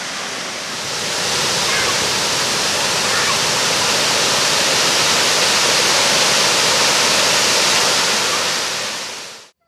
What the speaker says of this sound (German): Dann kommen wir zum eigentlichen, rund 60 Meter hohen Wasserfall.